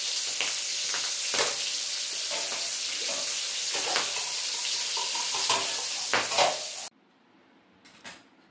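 Oily chunks of Wallago attu (shivda) catfish frying in a pan, a loud continuous close sizzle with spattering pops and utensil scrapes, cutting off abruptly near the end to near silence with a faint clink.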